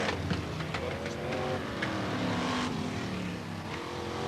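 Brisca F1 stock cars on a slowing-down lap at Northampton give a continuous engine drone with revving and passing-car swells, heard from a moderate distance.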